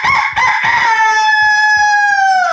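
A rooster crows loudly and close, one long drawn-out cock-a-doodle-doo that rises and trails off, with brief rhythmic rustling or thumps underneath and no talking.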